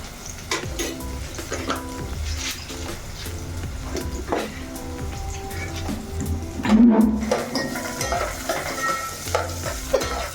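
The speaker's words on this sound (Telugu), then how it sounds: "దాని తర్వాత తాలింపు దినుసులు వేసుకుంటున్నానండి" Tempering spices crackle and sizzle sharply in hot oil, with stirring scrapes and a brief clatter of a pan partway through.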